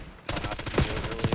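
Rapid automatic gunfire in Call of Duty Warzone, a steady burst of closely spaced shots at moderate loudness with no talking.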